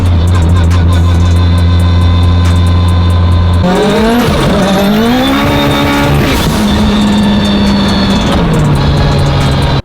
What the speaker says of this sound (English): I'm gonna drive the car back home, back to the house